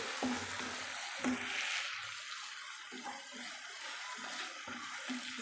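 Onions frying with salt for a fish curry hiss quietly in a pan while a spoon stirs them, with a few faint clunks and scrapes.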